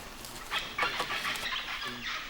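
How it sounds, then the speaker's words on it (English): Harsh, squawking parrot calls repeat several times at a moderate distance, scattered across a couple of seconds over a steady outdoor hiss in the Guatemalan forest at La Corona, as rain begins. "Can you hear the parrots?"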